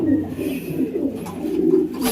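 Pet breeder pigeons or doves cooing in soft, continuous low throaty calls close by, with no talk over them.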